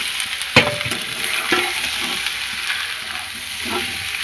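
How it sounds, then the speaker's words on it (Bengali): Fried potatoes tipped into spice masala sizzling in oil in a pan while cooking aloo dum, giving a steady frying hiss with a few sharp stirring knocks near the start and middle, no voices. "এবারে দিয়ে দেবো ভেজে রাখা আলু।"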